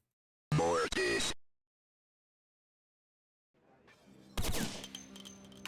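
Revolver gunfire in the video game Vampire: The Masquerade – Bloodlines: a loud shot with a quick follow-up early on, then silence, then a second sharp blast over rising game noise.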